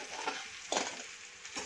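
Sabudana (sago) being added and stirred in a kadhai over low heat, with a few soft scraping stirs and a faint sizzle, close and quiet with no talking.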